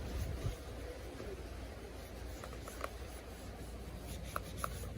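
Toilet paper rubs and wipes water off an Acer Chromebook 315 and its trackpad during a water test, a soft, steady scuffing close by with a few light taps, and no talking.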